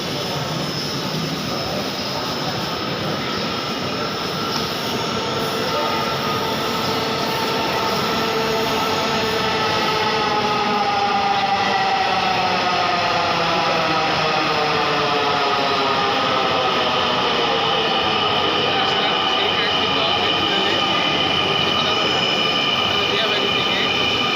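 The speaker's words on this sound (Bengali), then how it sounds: "আমরা এখন মেট্রো উঠবো।" A metro rail train runs steadily and loudly for the whole stretch, its rumble and whine rising and falling as it moves, a constant close mechanical drone with no pauses.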